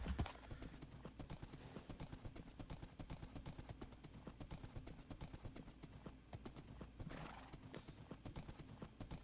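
A horse gallops in Minecraft, a fast steady clip-clop of hooves with occasional whinnies throughout, heard loud and close.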